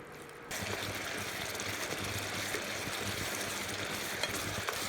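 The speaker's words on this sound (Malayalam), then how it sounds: "ഇനിയിപ്പം നമുക്ക് അടുത്ത് നമ്മുടെ കായപ്പൊടി ഇതിനകത്തോട്ട് ഇട്ടിട്ട് നല്ലോണം ഇളക്കാം." Ginger pickle in a pan with asafoetida powder stirred in, a steady, soft sizzling and frying hiss with faint scraping throughout, close and even in level.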